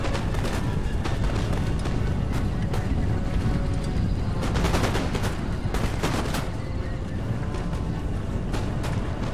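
Battle in the Empire: Total War video game, with dense, continuous gunfire and booming volleys crackling over a loud, churning background, heaviest in the middle stretch.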